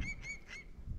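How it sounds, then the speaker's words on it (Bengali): A bird calling in the Sundarbans forest, three quick nasal honk-like notes in a row, close and fairly faint over low background rumble. "পাখির ডাক।"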